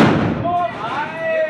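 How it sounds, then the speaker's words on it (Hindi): A Diwali firecracker bursts loud and close at the start, its roar fading within about half a second, and voices follow. "बम फटने वाला बड़ा वाला फटने वाला है और दो दो फट रहे हैं"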